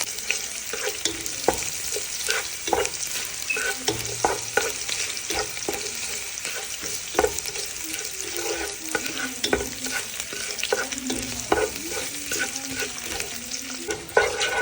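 Mustard seeds, curry leaves and coconut pieces sizzle in hot oil for a Kerala beef roast, with a spoon stirring and scraping the pan in brisk, repeated strokes over a constant crackling fry.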